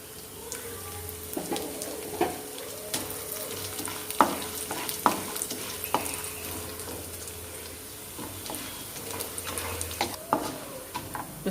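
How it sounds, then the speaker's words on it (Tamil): Chana dal and urad dal frying in oil with spluttering mustard seeds, a steady close sizzle broken by sharp scattered pops and a few stirring scrapes. "கடுகு நல்லா பொரிய ஆரம்பிச்சோன்னா நம்ம எடுத்து வச்சுருக்க கடலைப்பருப்பு, உளுத்தம்பருப்பு ஆட் பண்ணிடலாம்."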